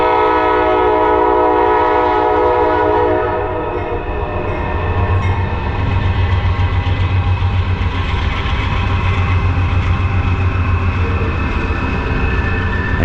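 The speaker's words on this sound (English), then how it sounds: "You can hear the train." A train rumbles past a West Virginia crossing, its horn blaring in a sustained, loud, harmonic blast over the steady roar and rattle of the cars.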